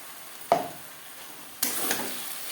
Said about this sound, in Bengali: কাঁচা গন্ধ যাওয়া পর্যন্ত নাড়াচাড়া করে নেব